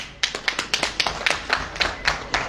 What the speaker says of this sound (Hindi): अगर ताली बजाएंगे तो मैं बताऊंगा